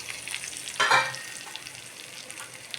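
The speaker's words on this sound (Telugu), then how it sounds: "అది తాలింపుకి కొంచెం ఆయిల్ వేసుకొని వెల్లుల్లిపాయలు వేసుకున్నాను." Garlic, asafoetida and dry red chillies fry in hot oil for a tempering, with a soft crackle that swells into a brief loud sizzle burst as ingredients hit the pan, then settles to a low steady hiss.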